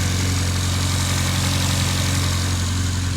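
A Honda K24 engine idles in an 8th gen Civic Si without idle air assist, a steady, even low hum with a constant throb, close and alone without any talk.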